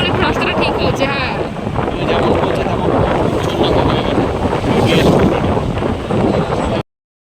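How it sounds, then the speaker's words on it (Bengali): A roaring motorbike ride along a village road gives a loud, continuous rush of engine and wind noise that fills the whole stretch, with a voice talking underneath before it cuts off abruptly. "বাইক চালাচ্ছিল, প্রচণ্ড আওয়াজ হচ্ছিল"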